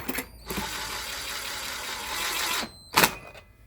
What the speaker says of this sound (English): I fit these with this little gun, but it's only a very, very low impact gun.